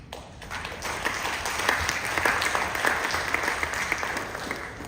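An audience claps steadily for several seconds, a dense wash of hands that swells slightly midway without any speech.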